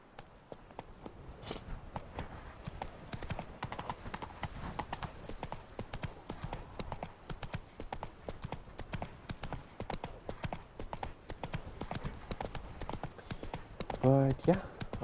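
Horse hooves clip-clop in a steady walking rhythm throughout in the video game Witcher 3, with faint voices in the background and a brief whinny near the end.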